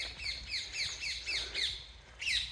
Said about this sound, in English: The birds are saying hello as well.